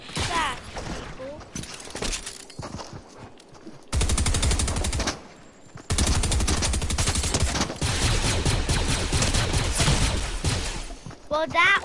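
Rapid crackling bursts of fireworks in a PS4 video game, popping in dense rattling volleys that come in several loud stretches with short pauses between them.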